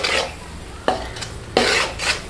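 Corn flour halwa being stirred with ghee in a pan, a close, loud scraping and sizzling stir broken by two sharp utensil strokes against the pan, with no talking.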